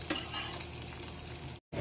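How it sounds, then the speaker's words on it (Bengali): Potatoes frying in oil in a home kitchen, a steady loud sizzle with faint stirring scrapes, cutting out briefly near the end. "আলুগুলো ভাজা হয়ে গেছে"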